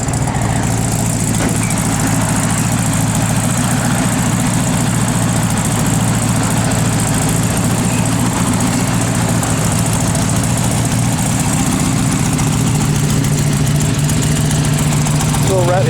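A 1969 Chevrolet Camaro RS/SS engine idles loud and close with a steady, rumbling, unbroken drone throughout, while voices talk faintly beneath it.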